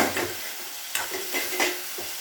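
Onions and tomatoes cooking in a pan, a quiet sizzle with several scraping stirs of a spatula at irregular intervals, close and alone.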